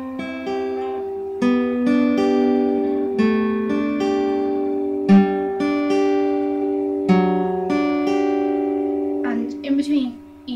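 Acoustic guitar slowly plucking and strumming a chord progression, distinct chords ringing out one after another at an unhurried pace, clear and close with no voice.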